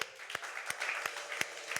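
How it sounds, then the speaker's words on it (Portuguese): A church congregation claps quietly after a prayer, with soft scattered hand claps and a few sharper individual claps standing out at a steady pace, all faint and distant-sounding. "Você pode aplaudir o Senhor?"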